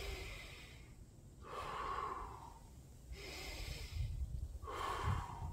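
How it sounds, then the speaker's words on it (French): An archer preparing to shoot a compound bow takes slow, deep breaths, three long airy inhalations and exhalations alternating, close to the microphone and quiet, with no talking. "et là je vais respirer. Je remplis mes poumons."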